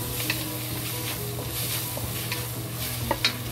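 Eggs frying and being stirred in a hot pot for a spinach and egg dish, a steady close sizzle with scraping stir strokes throughout and no talking.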